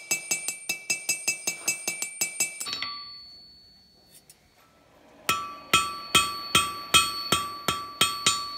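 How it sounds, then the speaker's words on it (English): Rhythmic hammer blows ringing on hot metal while forging a ginkgo leaf, a quick run of sharp clangs, a pause with faint ringing, then another steady series of strikes. "Be careful on your hammer blows, make sure that they count."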